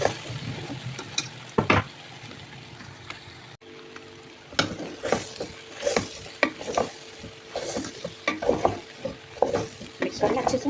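Macaroni and vegetables, with chicken, are stirred and tossed in a frying pan, loud repeated scraping spoon strokes in an uneven rhythm over a constant sizzle.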